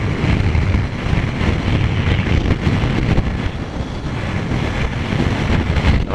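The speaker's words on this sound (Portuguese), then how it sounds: "Olha aí o vento." Strong wind buffets the helmet microphone of a Kawasaki Z900 rider on a mountain climb, a loud continuous roar and rumble throughout with no speech.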